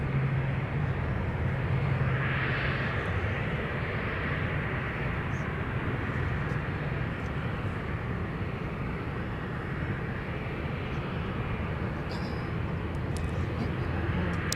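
A SkyWest airliner roars at Minneapolis–Saint Paul airport with broad, steady engine rumble that swells slightly early on, loud and continuous, with faint distant whines above it.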